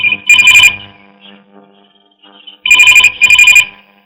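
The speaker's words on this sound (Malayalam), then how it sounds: "മോളെ നിനക്കൊരു ഫോൺ" A telephone rings in two loud, bright bursts of electronic trilling, each made of rapid double pulses, separated by a quiet gap with faint room sound, in a domestic scene in a Malayalam film.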